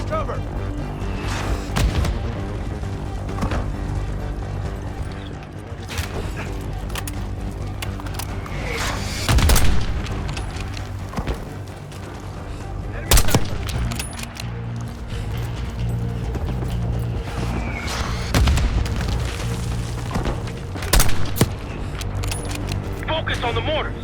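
Mortar blasts and gunfire rage in the Call of Duty Black Ops 6 campaign, a loud, dense wall of battle noise with heavier explosive bursts every few seconds and voices shouting amid the din.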